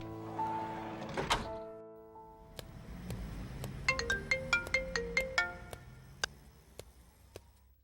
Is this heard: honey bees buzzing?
no